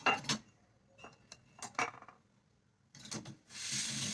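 Metal cutlery and kitchen utensils, including a knife and a peeler, clink and rattle in short separate bursts as they are lifted from a Voltas Beko dishwasher, close by and fairly quiet with brief pauses between.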